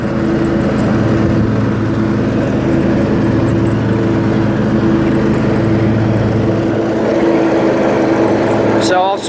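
A John Deere LX188 riding lawn mower's engine runs steadily at a loud, close, constant drone, with a brief higher whine right at the end.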